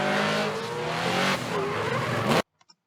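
A drift car at full throttle coming over a hill, its engine roaring loudly with tire squeal before the sound abruptly cuts out, leaving near silence and two faint knocks.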